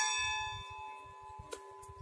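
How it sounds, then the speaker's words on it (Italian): Church bell in Cavagnolo, Italy, ringing during a 25 April Liberation anniversary event: faint, sustained tolling tones hang and slowly decay over a low background rumble, distant and quiet. "La campana mi dice che forse è ora di concludere questo momento"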